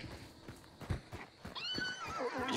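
Horse in the video game Hunt: Showdown, hooves clopping at first, then a clear whinny rising and falling near the end, fairly close and alone.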